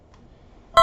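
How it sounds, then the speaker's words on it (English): A short, bright electronic beep from an Oculus VR cube-tossing game sounds once at the very end, loud and close after near silence. "It's gonna add some audio to beep in my ear."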